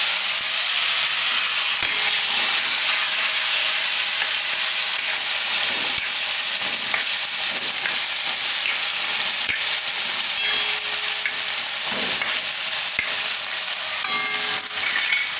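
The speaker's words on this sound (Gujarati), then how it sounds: "અને જીરું થોડું, થોડીક હિંગ નાખીશું આપણે અને બટેટા નાખી દઈશું." Potatoes frying in hot oil with cumin and asafoetida, a loud steady sizzle throughout with occasional crackles and stirring scrapes.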